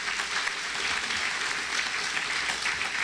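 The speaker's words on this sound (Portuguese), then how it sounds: "Aplauda bem forte ao Senhor." A church congregation claps loudly and steadily throughout, a dense continuous wash of applause filling the hall.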